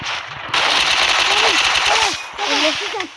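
Rapid automatic gunfire from a video game crackles loudly in sustained bursts with a short break in the middle, while voices murmur beneath it.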